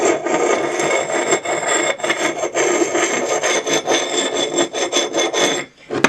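A knife blade drawn repeatedly across a sharpening stone, making steady rasping strokes in a quick, even rhythm. Close and loud, with no talk, it breaks off briefly near the end.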